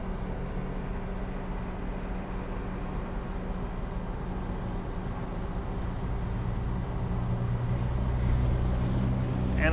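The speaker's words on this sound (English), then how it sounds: "You're gonna pull the main tail down to the ground" A 2023 Trail King TK80 HT trailer's main tail lowers to the ground with a steady hydraulic hum over a running engine, continuous and fairly loud, the pitch shifting slightly near the end.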